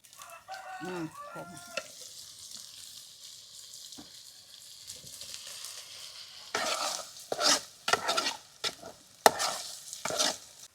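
Ginger garlic paste and tomato pieces frying for an Andhra-style ribbon fish egg curry, with bursts of sizzling and stirring clatter growing louder in the second half.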